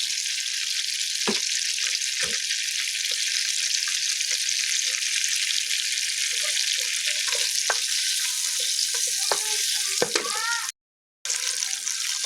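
Tomatoes fry in a pan of hot oil for chicken biryani, a steady loud sizzle running throughout, broken by a few utensil scrapes and stirring knocks.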